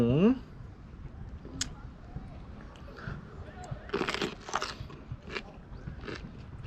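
Raw bell pepper is bitten and chewed up close during a diet mukbang, giving a few sharp, crisp crunches spaced a couple of seconds apart, with soft mouth sounds and faint vocal murmurs between them.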